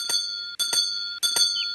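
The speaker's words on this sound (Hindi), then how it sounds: "कौन घंटी बजा रहा है?" A cartoon doorbell rings repeatedly at a front door, with four bright electronic chimes coming in two quick pairs, loud and close with no voices over them.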